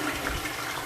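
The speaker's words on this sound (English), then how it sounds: "you constantly run a ton of water for quite some time" Water runs steadily through plumbing fixtures during a drain test, a continuous, even rushing and gushing that holds at a constant level throughout, with no voices.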